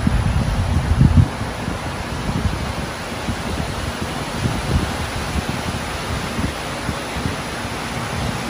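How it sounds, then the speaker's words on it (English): Strong outdoor wind buffets the microphone with low, rumbling gusts, loudest in the first second and then a steady roaring bluster; no one speaks. "Oh my gosh, the wind is like going nuts."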